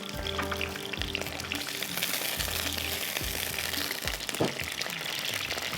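Mutton pieces frying lightly in oil for a ginger mutton dish, a continuous crackling sizzle with a few soft knocks and clinks against the pan.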